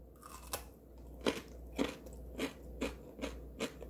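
Crunchy chewing of firm pickled chonggak radish kimchi, a series of crisp bites repeating about every half second, close to the mic with no talking.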